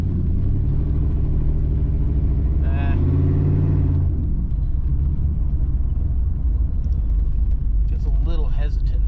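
Chevrolet Camaro Z28 engine rumbling steadily while driving, running slightly rough and hesitant, with a brief rise in revs midway; a person talks over the low drone throughout.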